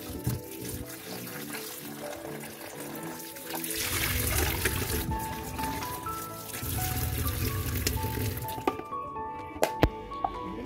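Running tap water splashes steadily while spinach and carrots are rubbed and handled beneath it, with a few soft squishy sounds and clinks near the end.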